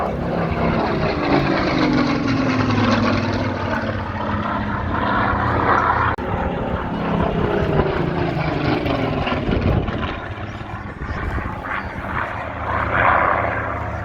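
Supermarine Spitfire propeller aircraft flying at an air festival, a loud continuous engine roar with shifting pitch as it passes, sustained throughout with no talk.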